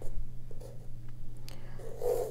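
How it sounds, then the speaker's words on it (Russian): A pencil sketches quickly on coarse-grain watercolor paper, giving soft scratchy strokes and light taps over a steady low background hum, close and quiet. "рисунок карандашом,"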